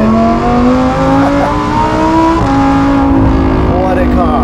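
A Lamborghini Huracan STO fitted with a Novitec exhaust revs loudly and close up, its engine tone climbing and dipping with a couple of quick blips in a sustained roar.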